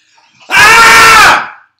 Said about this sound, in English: You want to do the scream?